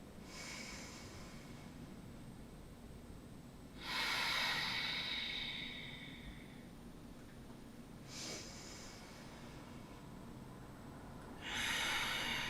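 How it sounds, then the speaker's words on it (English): A person takes slow deep breaths during a guided breathing exercise: three long airy inhale and exhale swells, evenly spaced and close, alone in a quiet room. "Inhale in. Exhale out. Take 2 more deep breaths."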